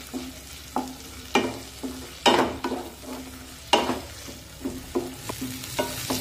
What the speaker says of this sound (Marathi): तो सुद्धा यामध्ये टाकूया आणि टोमॅटो सुद्धा मऊ होईपर्यंत शिजून घेऊया।